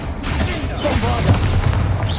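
A Bombarda explosion spell cast in Hogwarts Legacy, heard as a loud, sustained booming blast with rumbling low end and crackling debris, followed by a brief voice under the tail.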